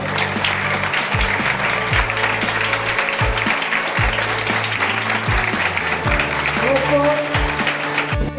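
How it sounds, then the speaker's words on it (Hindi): A crowd at a company store event in Goa gives loud, sustained clapping for the firm's CMD, with rhythmic low thumps beneath and some voices mixed in. "एक बार जोरदार तालियों के साथ हमारे कंपनी के सीएमडी सर के लिए जबरदस्त तालियां"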